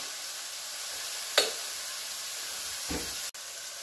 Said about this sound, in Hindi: ये अभी पक रहा है, हमारा जो टमाटर है वो धीरे धीरे गल रहा है, कम आंच पर हमने रखी हुई है गैस